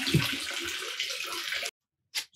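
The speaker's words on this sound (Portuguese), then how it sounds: "Então joga a água da batata aqui e as batatas depois a gente coloca no saco" Water from boiled potatoes is poured out onto soil in a steady, close splashing stream that stops abruptly, followed by a short faint rustle.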